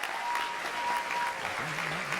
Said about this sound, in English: That's a pretty good applause.